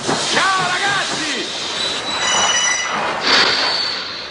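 Passenger train rolling on rails, with high wheel squeals rising over a steady rumble of railroad cars, loud and close throughout, and faint voices in the background.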